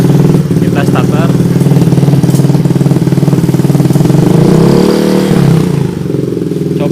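A Yamaha Mio J scooter engine cranks over and settles into a loud, steady, close idle with a mechanical clatter, while a person speaks briefly over it.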